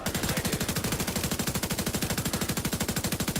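Rapid automatic gunfire from a weapon in The Division 2, a fast unbroken stream of sharp, evenly spaced shots at a high rate of fire, loud and close with no talk over it.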